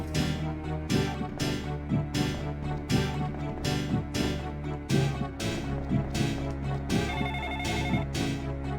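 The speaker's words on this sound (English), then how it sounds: "Phone rings." In a horror video game, a telephone rings over and over in a steady repeating pattern, loud and close with no talk.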